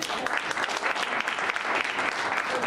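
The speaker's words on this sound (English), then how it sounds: "Ken Rausch and Sheila, a big applause to you." Audience applause fills a talk-show style community event hall, dense and steady clapping sustained from start to end without pause.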